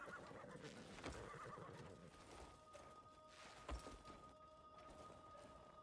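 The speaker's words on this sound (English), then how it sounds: "Oh, that is not a legendary horse." A horse in the video game Crimson Desert neighs loudly and close, with a couple of whinnies over muffled hoof thuds and game ambience, and no talking.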